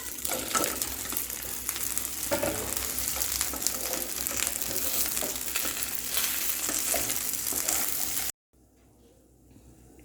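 Fried chicken 65 pieces tumble into a hot pan and are stirred, giving a loud, steady sizzle with scraping stir noises that runs on, then cuts off abruptly near the end, leaving faint quiet.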